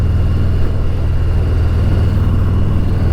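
A 2019 Harley-Davidson FXDR 114 rumbles in third gear while riding, a loud, deep, steady engine drone heard close from the rider's seat, with wind noise and no talk.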